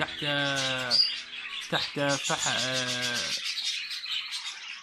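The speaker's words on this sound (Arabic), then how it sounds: "وهذا الكروان ما شاء الله ما شاء الله." A stone-curlew calls close by in a series of loud, harsh harmonic squawks. The calls come in two clusters, with a short pause between them, and fade to quiet at the end.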